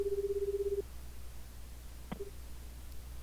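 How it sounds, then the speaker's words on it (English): A phone is dialed in the video game 428: Shibuya Scramble: a steady electronic tone holds for under a second, then a short click and a brief beep follow over a quiet background hum. "Kano got out his phone and called Stanley."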